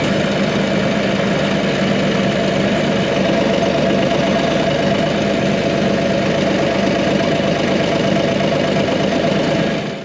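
A tractor engine idles steadily on a slope while hay bales are held in place for strapping, a continuous loud droning rumble with an even mechanical beat and no other sounds.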